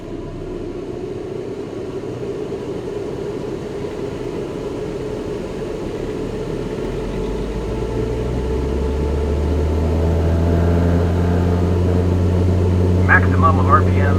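Fan-driven turbine in a DIY 3D printed wind tunnel spooling up toward maximum RPM, a loud steady roar whose pitch climbs and whine rises over about fourteen seconds, with a brief mechanical rattle near the end.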